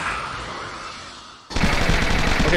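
Rapid automatic gunfire from an Among Us versus Alien animation, a dense continuous burst that cuts in loud and close halfway through after a quieter stretch of noisy rumble, with no talking.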